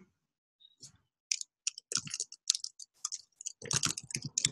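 Computer mouse clicking while working in Google Contacts: a few sharp, close clicks spaced irregularly, then a denser run of clicks near the end, with faint low thumps between them.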